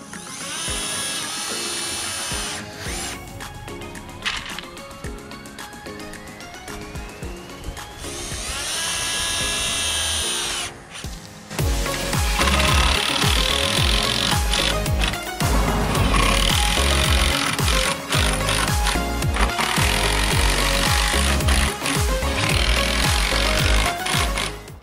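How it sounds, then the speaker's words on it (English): A power drill whirs in short bursts, then grinds loudly and continuously as it drives screws into wooden fence boards, with a rising motor whine early on. "Ready to drive the screw, you just pop the drill chuck off and pop on the actual bit holder."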